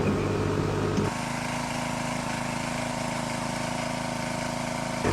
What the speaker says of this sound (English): managed to nurse the generator along and keep it going